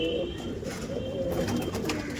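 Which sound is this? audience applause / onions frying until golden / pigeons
pigeons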